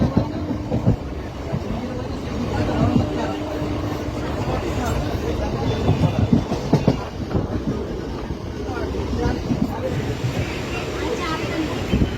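A moving train rumbles and rattles steadily with clickety-clack, heard from inside a carriage, with people talking nearby.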